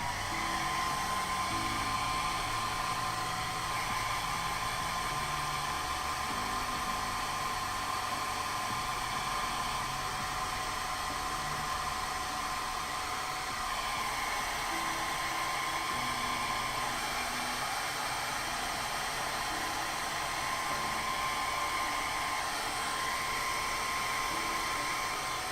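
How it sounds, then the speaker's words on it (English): Hair dryer blowing steadily on a painted Imperial Fists miniature, a continuous airy whoosh with a thin high whine, close and even throughout with no speech. "Let's grab the hairdryer real quick."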